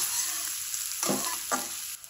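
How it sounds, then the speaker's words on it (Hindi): Finely chopped onions fry in a pan with a steady, loud hiss, and two brief stirring scrapes stand out near the middle; no one speaks. "इनको थोड़ा सा फ्राई कर लेते हैं।"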